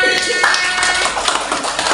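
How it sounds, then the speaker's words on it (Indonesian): A class of children claps their hands together, a brief burst of close, irregular claps. "tepuk tangan untuk kita semua"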